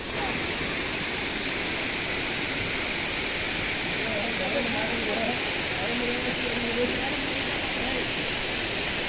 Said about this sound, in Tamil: ஆக்சுவலாக இந்த ஃபால்ஸ் வந்து ரொம்ப ஹைட்டாக இருக்குது.